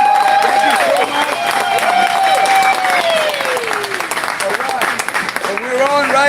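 A crowd at an outdoor campaign event in South Tucson gives a sustained round of applause that stays dense and loud throughout. A voice rings over the clapping, and one person keeps talking under it.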